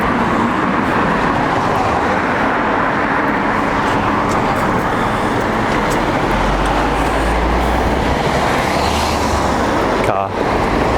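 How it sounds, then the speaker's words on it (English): A car passes along a town street in the evening, a dense broadband roar of tyres and engine swelling and fading amid general traffic noise, with voices talking over it. "Car."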